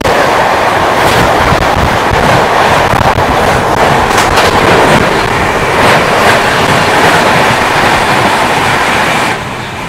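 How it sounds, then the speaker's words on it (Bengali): An Amrit Bharat Express rushes past on the adjacent track, heard from a moving train as a loud, close, continuous roar with rapid rhythmic rattling thumps of wheels, ending abruptly. "এখন এই মুহূর্তে আমাদের সঙ্গে দেখা হয়ে যাবে 134-33 SMBT ব্যাঙ্গালোর থেকে মালদা টাউনগামী অমৃত ভারত এক্সপ্রেসের সাথে"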